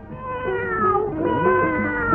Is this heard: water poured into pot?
no